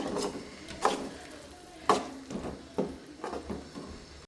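Coriander leaves and tomato rice being stirred and fried in a pan, with a few distinct scraping knocks of the spatula against the pan over a soft, steady sizzle.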